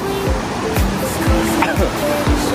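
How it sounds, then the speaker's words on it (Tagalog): Strong ocean waves wash steadily onto a beach, forming a dense, noisy rush of surf with repeated low thuds from breaking water, close and fairly loud throughout. "malakas yung alon dyan ha"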